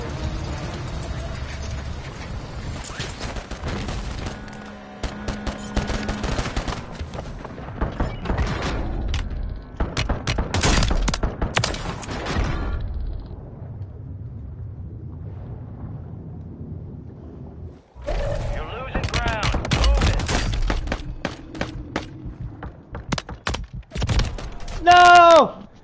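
Video game gunfire: bursts of rapid shots and mechanical clatter in two loud stretches separated by a quieter lull, with a player talking at points.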